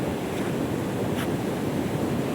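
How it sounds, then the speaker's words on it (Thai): Flash flood water from the forest rushes past in a constant, dense roar with wind buffeting the microphone. No voices are heard. "น้ำป่าไหลหลาก"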